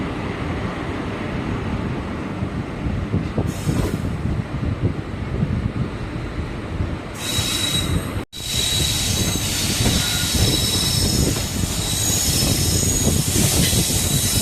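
Erode to Mettur Dam passenger express train running steadily on the rails, with continuous loud wheel rumble and rattle, squealing wheels and wind noise, near and unbroken apart from a brief dropout.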